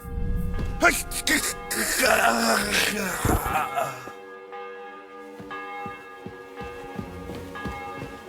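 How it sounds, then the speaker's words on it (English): A church bell tolls in slow, repeated strikes in the medieval game Kingdom Come: Deliverance II, after a stretch of talking and noise, the rings ringing out clearly on their own. "Bell's ringing for Hans the 5th time."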